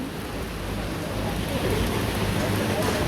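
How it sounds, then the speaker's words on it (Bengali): Steady rain falls over a village in Jhenaidah, Bangladesh, as a dense, constant hiss with a faint low rumble that stays even from start to end. "খুব ভালো বৃষ্টি হয়েছে"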